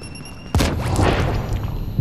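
Gunfire in the shooter video game The Division: a sudden loud blast followed by a dense burst of rapid shots and echoing impacts that trail off over about a second and a half.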